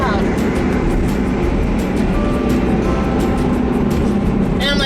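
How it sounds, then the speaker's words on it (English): A loud truck rumbles past on a city street, its broad, steady engine roar filling the whole moment with no letup, with a brief higher whine near the end. "this truck is so loud"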